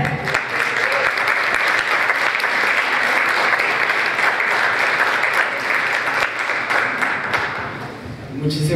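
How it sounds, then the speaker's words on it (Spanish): An audience at a singing competition final gives sustained applause to welcome a singer, a dense roar of clapping that holds steady and eases slightly near the end. "Con ustedes, un aplauso, por favor, a Geriel Javier."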